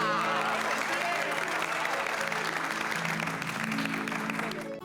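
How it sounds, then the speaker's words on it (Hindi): A studio audience bursts into loud, steady applause for Babita ji on a Hindi comedy sitcom set, dense clapping with crowd noise sustained for about five seconds before easing off at the very end. "इसलिए एक बार बबीता जी के लिए जोरदार तालियां।"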